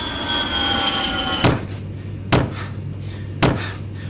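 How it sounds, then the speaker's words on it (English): A child on an airplane kicking the back of a seat, making three sharp thumps about a second apart over a steady cabin engine drone. "the annoying child who keeps kicking the shit out of the back of your seat on an airplane here"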